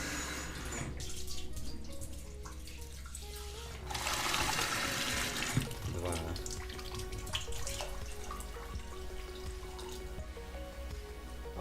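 Water pours steadily from a kitchen tap into a pot for cooking buckwheat, swelling louder midway, with kitchen clatter and a faint tonal background hum throughout.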